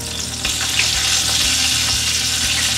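Curry leaves hit hot oil with lightly browned garlic, giving a loud, steady frying sizzle with faint stirring scrapes throughout, no voices.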